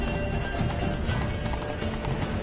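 Geralt's horse Roach gallops in The Witcher 3: Blood and Wine, a steady, close clatter of hooves in quick rhythm over a constant game ambience, continuous through the whole stretch.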